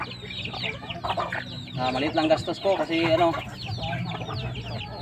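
Hens at a backyard coop with coryza clucking and calling in short bursts, fairly close, mixed with someone speaking Filipino over them throughout.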